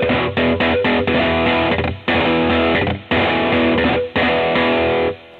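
Heavily distorted electric guitar chugs a galloping, palm-muted rhythm in drop D tuning, played with a guitar triller, loud and close, broken by brief gaps between phrases.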